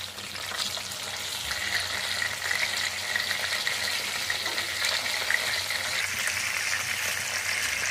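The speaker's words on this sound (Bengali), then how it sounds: "আস্তে আস্তে আমি কাবাবগুলো ভেজে নেব।" Beef kebabs frying in a pan over medium heat, giving a steady, close, continuous sizzle with crackling spits throughout and no voices.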